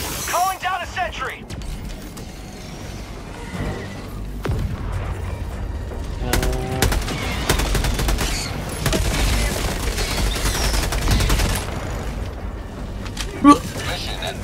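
A sentry turret fires in Helldivers 2 amid rapid volleys of gunfire and booms that run nearly throughout. Players talk over the shooting, and a sharp blast lands near the end.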